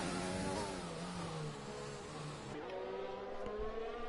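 An F1 race car engine in F1 2020, racing at the Russia circuit, screams at high revs with rising and falling pitch through gear changes, loud and close throughout as the car brakes and drifts out of a chicane.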